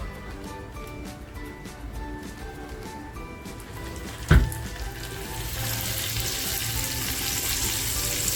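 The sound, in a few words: frying tarli fish sizzling in a pan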